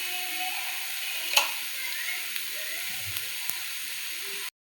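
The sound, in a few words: dry-roasting fenugreek seeds, ajwain and black pepper in a pan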